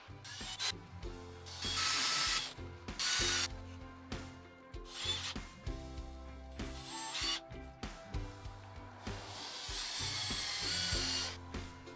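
A squared timber beam is clamped in a workshop while a garden ornament is assembled, giving repeated ratcheting clicks, wooden rubbing and scraping, and clamp mechanism noises in uneven bursts over about twelve seconds.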